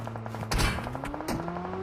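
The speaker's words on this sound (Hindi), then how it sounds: "भाई क्या ही बंदे फायर कर रहे हैं एकदम से" Rapid gunfire from players in a battle-royale shooter game crackles in a couple of sharp bursts over a steady engine hum and game noise, with no talking.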